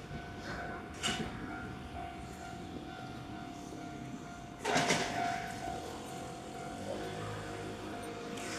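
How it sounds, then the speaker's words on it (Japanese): A train rolls into a platform at a Japanese station, a steady low rumble with a sustained tonal hum and a couple of louder clanking bursts, heard from the platform without nearby talk. "またね、4番線に列車がやってきます"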